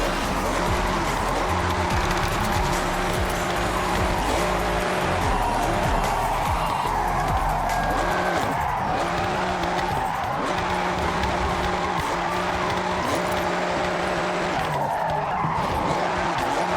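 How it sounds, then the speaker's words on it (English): A car drifts through corners in Forza Horizon, with a loud revving engine and long tire squeals and skids that continue without a break. "Now I'm test driving it through the corners to see how it'll react."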